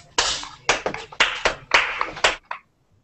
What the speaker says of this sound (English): Clap for Juju